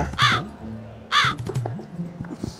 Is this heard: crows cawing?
yes